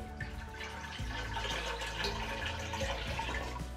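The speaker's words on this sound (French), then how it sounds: "on vient remplir la cuve supérieure du Berkey avec notre eau colorée" Coloured water poured into the upper tank of a Berkey water filter, a continuous close splashing and gurgling stream that runs steadily and quietly for the whole stretch without any talking.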